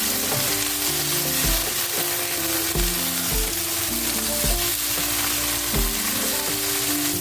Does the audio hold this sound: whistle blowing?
no